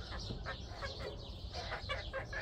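Fayoumi and local breed hens cluck in a pen, short repeated clucks from several birds over a steady low rumble of background noise, moderately close.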